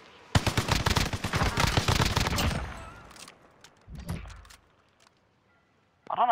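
Loud, rapid automatic gunfire rattles for about three seconds in a first-person video game match, then a few scattered distant shots and a short burst follow, with a brief tonal game alert at the end.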